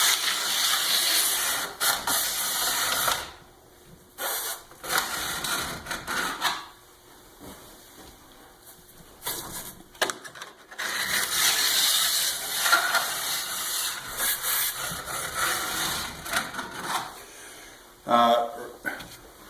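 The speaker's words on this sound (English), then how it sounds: "I'm sharpening the edges from tip to tail" A file scrapes along the edges of downhill skis from tip to tail in repeated hissing strokes, interrupted by brief pauses, with a voice talking over parts of it.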